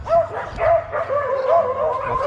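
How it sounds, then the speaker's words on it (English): Several dogs bark and yip in a small Colombian town, a string of close, overlapping barks with whiny yelps, loud and continuous. "Lots of dogs, obviously."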